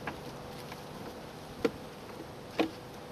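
Honeybees on a hive frame, with the queen on the frame, give a soft steady buzzing hum throughout, broken by two brief faint knocks or taps and no talking.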